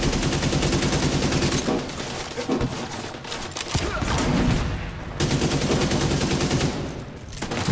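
An AK rifle fires rapid automatic bursts in The Division 2 video game, loud crackling volleys separated by brief pauses, with no voices.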